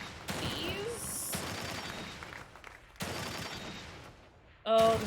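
Gunfire in The Evil Within 2 comes in bursts of repeated shots, moderately loud against a noisy game backdrop, ending in a sudden louder hit.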